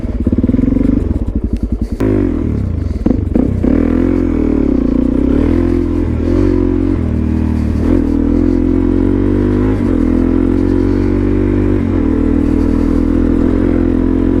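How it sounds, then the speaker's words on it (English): A Suzuki DRZ supermoto on street tires rides through mud. Its engine drones loud and close and rises and falls with throttle changes, with a burst of clattering rattles near the start. "I just wanted to get out and ride the motorcycle"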